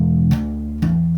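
Bass guitar riff played close and clean: a sustained open-string note, then two quick hammered-on notes with a pitch change at each step, alone with no voices.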